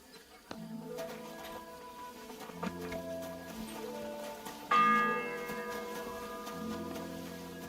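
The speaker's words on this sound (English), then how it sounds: "The first bell." Church bell tolling in a medieval video game, with several slow, resonant strikes ringing out at a moderate distance over quiet background sounds.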